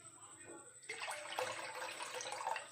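Water pours steadily into a container, a broad splashing rush starting abruptly and continuing to the end, close by.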